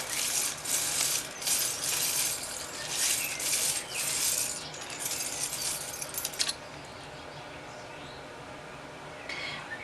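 Cards shuffle in several rapid riffling bursts close by, with soft rustling, then a quieter stretch and one more brief shuffle.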